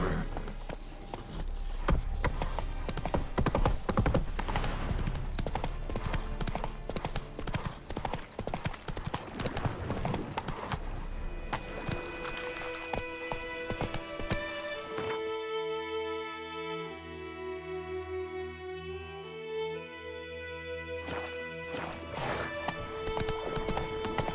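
Roach, a horse in The Witcher 3: Wild Hunt, moves with hoof clip-clops over busy game sound, which later gives way to sustained music tones.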